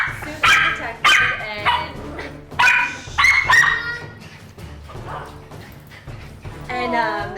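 A protective dog barks at guests in a home, loud and close, in repeated sharp barks broken by yips and whimpers, with people talking throughout.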